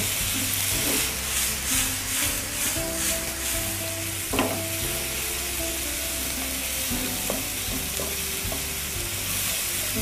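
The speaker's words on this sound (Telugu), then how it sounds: "ఆనియన్స్ ని బ్రౌన్ అయ్యేంత వరకు ఫ్రై చేయాలి." Steady sizzle of onions frying in a pan until brown, with occasional scrapes and clinks of stirring, alongside a faint low background hum.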